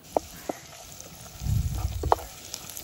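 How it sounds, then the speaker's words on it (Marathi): Ground garlic cloves hit hot oil for a fish curry, a brief burst of frying hiss lasting about a second amid a few soft clicks, otherwise quiet. "तेल गरम झाल्यानंतर त्यामध्ये वाटून घेतलेले लसूण टाकूया"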